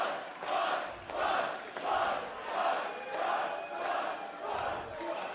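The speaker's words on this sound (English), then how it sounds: "listen to this crowd, Rose." Crowd at a Pro Wrestling Australia cage event roaring in rhythmic waves, about six swelling chants or cheers rising and falling at a steady pace, heard from within the arena with no clear talk.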